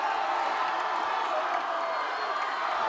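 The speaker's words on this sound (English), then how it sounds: "A loud roar from the crowd here at Halloween Fields." A crowd roaring at a high school football game at Halloween Fields, a steady, distant wash of cheering and shouting from the stands that holds even for the whole stretch.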